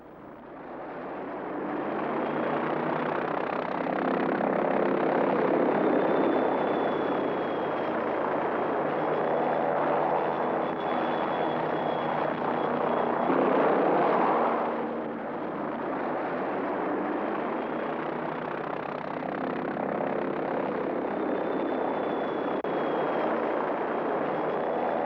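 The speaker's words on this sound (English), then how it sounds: "The helicopter can also maneuver to a limited extent" A loud, steady roar of a military attack helicopter in flight, broad and droning throughout, swelling briefly midway before settling back to a constant rumble.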